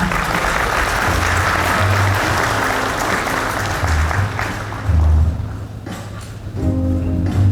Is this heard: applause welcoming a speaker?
yes